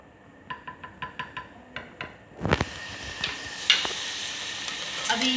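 Onions browning in a hot pan while they are stirred, beginning with a string of light clinks and taps before a steady sizzle takes over. A sharp scrape follows, and more stirring knocks come and go over the frying.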